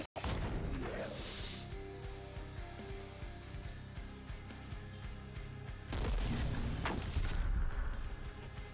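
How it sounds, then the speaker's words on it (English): Mortar fire in the turn-based strategy game The Last Spell: a dense run of heavy booming blasts and crashes, loud and continuous, swelling near the end. "Mortar's doing some work"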